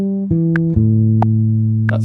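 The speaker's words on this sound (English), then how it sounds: "Let's listen to those crotchet triplets again" A bright synthesized melody is played in crotchet triplets, a few sustained tones stepping downward in even, evenly spaced notes, loud and clear with light percussive ticks and no voices.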